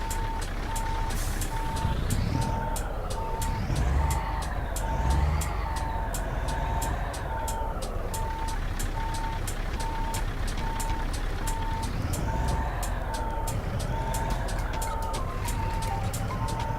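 In Euro Truck Simulator 2, a truck reverses toward a trailer, its evenly spaced reversing beeps repeating steadily over a constant low engine drone throughout, with no talk.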